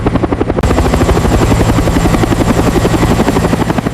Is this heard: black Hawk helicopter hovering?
yes